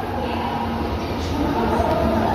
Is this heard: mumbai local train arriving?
yes